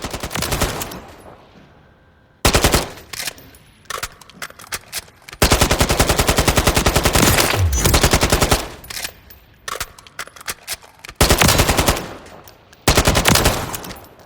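An AK-107 rifle in Call of Duty Modern Warfare III fires long rapid full-auto bursts, loud and sharp, separated by short pauses and a few single shots, with no voices.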